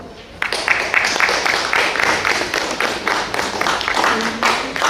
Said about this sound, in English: don't hesitate to clap when you want to clap